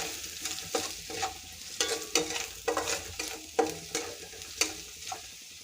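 Onion with red chili powder and turmeric fries in oil in a pan, the low sizzle punctuated by regular sharp scrapes of a spoon stirring about once a second.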